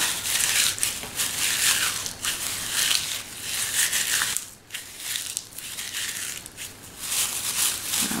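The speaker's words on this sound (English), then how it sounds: "take your shredded paper and crumple up." Shredded paper being crumpled by hand, with close, loud crinkling and crushing in repeated bursts, a brief pause in the middle, then more rustling.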